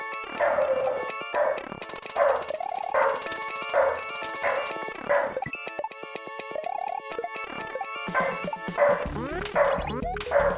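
A dog yips and barks in quick, repeated bursts with whimpering whines between them over about ten seconds, layered under busy video game sound effects and music, with someone talking faintly at times.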